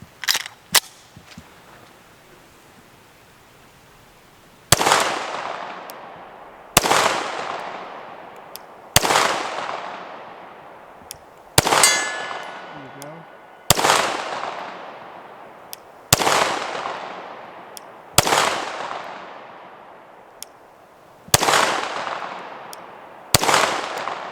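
PSA Dagger pistol fired outdoors at a 60-yard steel silhouette target, about nine loud, sharp gunshots spaced a couple of seconds apart, each followed by a long ringing decay, with a few softer clicks before the first shot.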